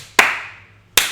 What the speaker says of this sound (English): Let's give them a slow hand clap.